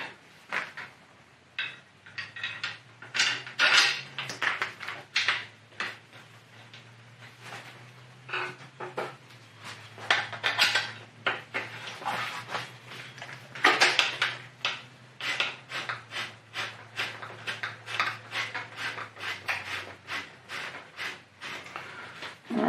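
A new bolt, its threads coated with Loctite thread compound, is snugged down on a Velomtek velomobile, giving a run of close, irregular metallic clicks and clatters over a steady low hum.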